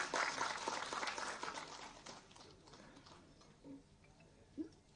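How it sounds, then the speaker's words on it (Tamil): Audience applause at a film press meet, a dense patter of clapping that is loudest at the start and fades over a few seconds, leaving a quieter room with a couple of small knocks near the end. "நல்லா கைதட்டுகள் அவர்."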